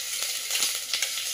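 Cumin and garlic sizzle in hot mustard oil for Punjabi kadhi, a steady bright hiss with small crackles throughout a brief moment.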